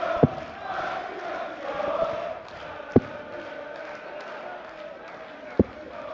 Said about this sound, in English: The crowd are getting noisier.